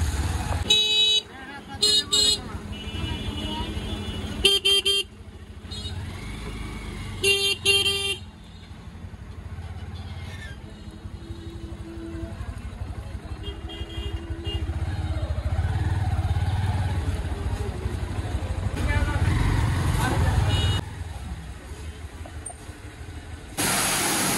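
A motorcycle rides slowly through road traffic, its engine running hot after a wash, with a steady engine drone, passing cars and several short horn honks and hiss bursts throughout, and occasional voices in the background.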